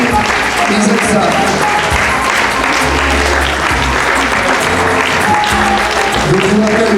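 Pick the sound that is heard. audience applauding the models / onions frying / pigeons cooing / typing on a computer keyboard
audience applauding the models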